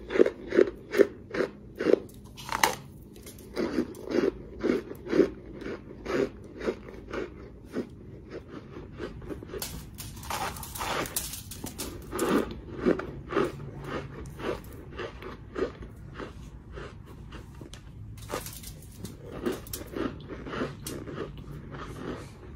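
Crunchy food is bitten and chewed close up in a quiet setting, a run of sharp rhythmic crunches and crackles with brief pauses between bites, loud and crisp.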